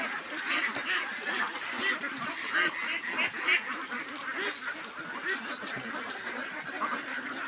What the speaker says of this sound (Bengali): হাঁসগুলো আসছে খাবার জন্য